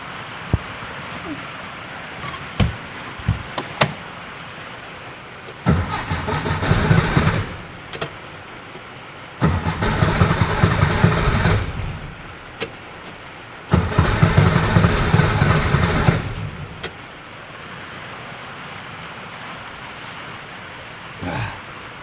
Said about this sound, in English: You can tell it's trying to catch, but it just won't.